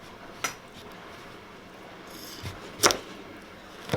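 A knife splits a peeled butternut squash down the middle on a board, giving a few sharp separate knocks and clacks against quiet background, the loudest near the end.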